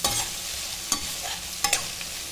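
Crushed garlic, curry leaves and onion sauté in a pan for tamarind rice, a soft steady sizzle punctuated by two or three sharp scrapes of a spoon stirring, with nobody talking.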